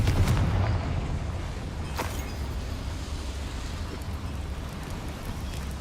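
The Confringo fire spell in the Hogwarts Legacy video game lets off a rumbling blast with a sharp burst early on, then a sustained low roar of fire and debris.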